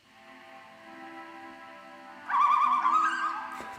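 Soft synthetic tones hum at first, then a bright warbling bird call rises and trills for about a second before fading.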